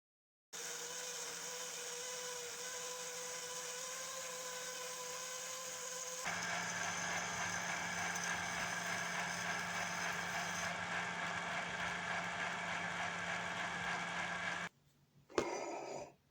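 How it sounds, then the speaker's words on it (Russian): A hole saw drills out the center of a homemade lathe faceplate, a steady loud power-tool whine and grind that deepens partway through, runs alone without talk, then stops abruptly near the end with a brief clatter. "Сейчас буду делать планшайбу. Середину высверлю коронкой."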